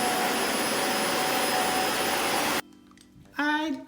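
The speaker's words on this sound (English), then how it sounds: "I'm so glad I got to help and vacuum and make the rug look all pretty." A vacuum cleaner runs loudly on a rug, its broad steady roar filling the first few seconds before cutting off abruptly, followed by a brief quiet stretch and a voice speaking.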